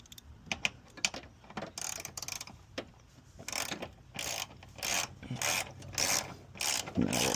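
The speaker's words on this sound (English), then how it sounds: "10mm wrench on the back. And 10mm on the front." A 10mm wrench ratchets on master cylinder brace bolts of an Infiniti G35, giving rapid clicking runs in close, fairly quiet bursts with short pauses between strokes.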